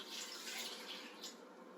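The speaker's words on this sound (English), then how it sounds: "pour the dirty water into the toilet" Dirty water from a plastic wash basin poured into a toilet during bed bath cleanup, a short steady splashing pour, close and moderately quiet.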